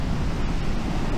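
Strong Pacific surf at Dingalan, Aurora, on an open stretch of coast, rolling as a steady, dense roar of breaking waves mixed with wind buffeting the microphone, with no voices.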